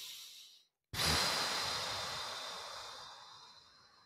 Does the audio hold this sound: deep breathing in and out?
yes